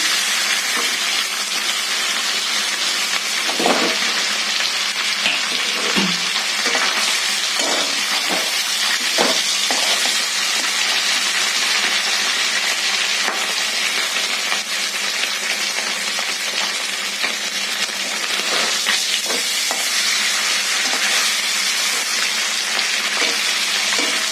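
Pieces of tilapia crackle in hot cooking oil, a continuous close sizzle broken by a few brief clatters as fish is turned and swapped in the pan, with no voices.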